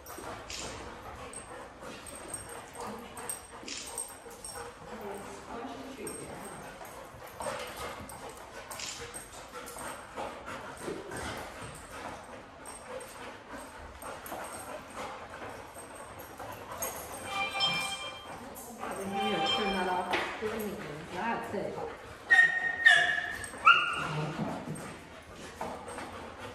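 Puppies barking, yipping and whimpering during a play session, a busy scatter of small high yaps and whines over a low background hum, growing louder and more frantic toward the end.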